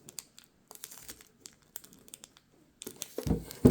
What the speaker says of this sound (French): maintenant, on va ouvrir cette grosse boîte.